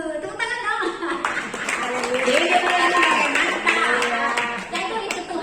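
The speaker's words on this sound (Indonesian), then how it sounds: "Tepuk tangan dong." A congregation at a Sunday church service claps and cheers, the clapping mixed with raised voices that ring out over it.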